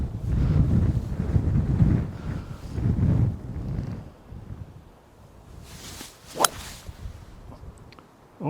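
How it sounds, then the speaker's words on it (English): Strong wind gusting across an open golf course at Pippy Park's Captain's Hill buffets the microphone with loud low rumbling for several seconds, easing off, then returning in shorter bursts with a sharp whip-like gust near the end. "the wind, we're directly into it, and it's pushing off to the right"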